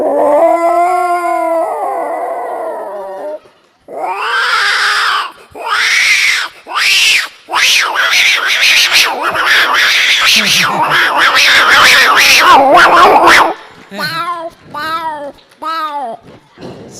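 A man imitates two cats fighting. His voice produces long wavering yowls that rise into rapid, overlapping screeches, followed by a few short choppy cries. The sounds are loud and close, with no other sound behind them.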